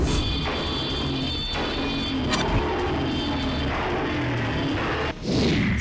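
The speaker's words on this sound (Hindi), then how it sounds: "ये धमाके किसी बम से नहीं बल्कि बुलेट बाइक के साइलेंसर" Loud bangs from a Bullet motorcycle fitted with a modified silencer backfire out on a street, several sharp blasts spaced over a steady engine rumble, with no one speaking.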